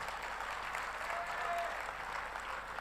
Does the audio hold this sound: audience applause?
yes